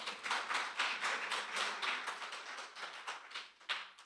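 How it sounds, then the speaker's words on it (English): An audience at a domestic violence consultation applauds the staff, steady rhythmic clapping from many hands that swells and then tapers off near the end, with no voices over it. "I want to give a big round of applause to my staff over there on the left-hand side"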